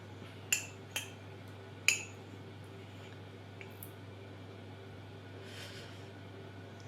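A spoon scoops syrup from a container while baking a gingerbread house, giving a few sharp metallic clinks early on, then soft quiet scraping over a low steady hum.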